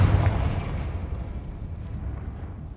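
A Confringo fire spell explodes in the Hogwarts Legacy video game, giving one loud, heavy boom at the start that rolls into a long, rumbling decay with no talk.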